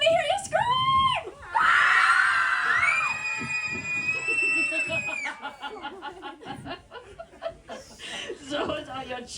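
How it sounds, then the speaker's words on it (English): A group of high voices of children screams together loudly at Silverwood, then breaks into laughter and excited chatter. "Now, Bird, all my junior rangers, let me hear you scream!"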